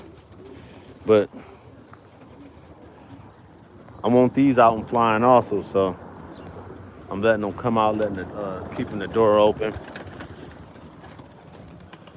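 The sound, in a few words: Birmingham Roller pigeons in cages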